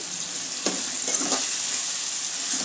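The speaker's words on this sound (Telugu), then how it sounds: "ఇలా వేగుతున్నాయి టమాటాలు కూడా కొంచెం మెత్తగా." Tomatoes frying and softening in a pan for an egg curry, a steady close sizzle with a few soft stirring scrapes and no talking.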